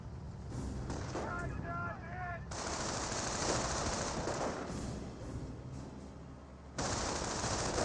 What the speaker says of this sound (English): Rifle squad now receiving some auto cannon fire.